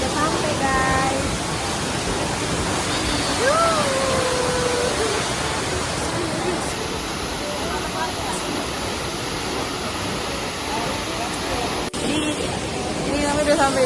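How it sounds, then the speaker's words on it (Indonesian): A waterfall roars in a constant broad rush, with faint voices and a brief whistle-like tone in the background. "Ini kami udah sampai di air terjun loh."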